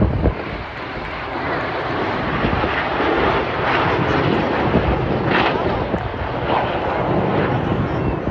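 Red Arrows jets roar overhead during a corkscrew manoeuvre at the Blackpool air show, a loud sustained engine rush with wind buffeting the microphone and a commentator talking over it.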